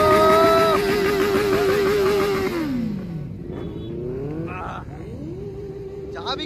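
Kawasaki superbike roaring on a big Sunday group ride in Chhattisgarh, a loud held high-rev howl that drops off, then further engine revs rising and falling nearby, with voices talking over the engines.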